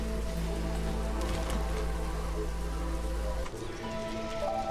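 Light drizzle pattering in the Against the Storm video game, a soft continuous rain hiss under a low steady hum and game music tones, fairly faint, with no voice over it.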